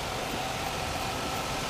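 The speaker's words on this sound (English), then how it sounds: "let's get out and see how this engine's running" A 2001 Chevrolet Silverado idles after new head gaskets are fitted, giving a smooth, even hum that holds steady throughout with no voices.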